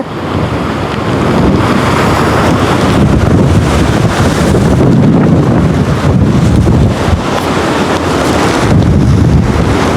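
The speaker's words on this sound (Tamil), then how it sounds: "நல்ல காற்று அடிச்சு கொண்டிருக்கு" Strong storm wind buffets the microphone over the constant loud roar of rough sea surf crashing nearby at Keerimalai, Jaffna, with no pauses throughout.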